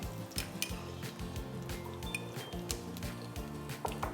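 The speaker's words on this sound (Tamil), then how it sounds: "ஸோ இப்போ அந்த ஆயில் நமக்கு கொஞ்சம் லைட்டாக சூடாகி வரப்போ நம்ம வெட்டி வச்சிருக்கிற பூண்டு ஒரு 4லேருந்து 5 பல்லு போடலாம்." Chopped garlic cloves frying in hot Mantra groundnut oil, a steady soft sizzle with light clinks of a utensil against the pan, close and fairly quiet.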